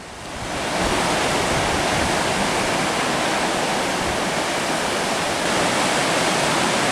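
Waves break on the beach at Kåseberga, Sweden, a loud continuous rushing surf roar that swells in and holds steady, with no voices.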